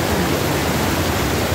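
A river flowing in cold autumn weather gives off a dense, steady rushing roar that stays loud and unbroken throughout, with no voices over it.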